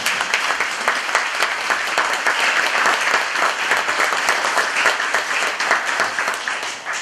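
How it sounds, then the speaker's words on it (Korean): A lecture audience claps warmly as the chairman's wife stands to be greeted, dense steady applause from a sizable crowd filling the whole stretch without a break. "의장님보다 더 큰 박수로 와주십니다."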